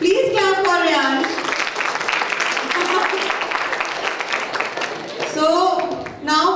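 Audience clapping for a spelling bee contestant at a school literature festival, a short burst of applause from a crowd, with a voice speaking over it at the start and end.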